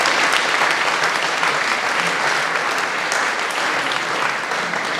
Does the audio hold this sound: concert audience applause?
yes